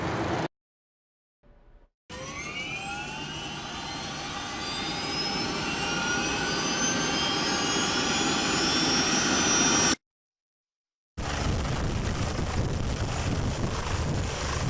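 A Virginia State Police aircraft takes off with a loud, steady jet-like turbine roar that swells and rises in pitch over several seconds, broken by two short gaps of silence.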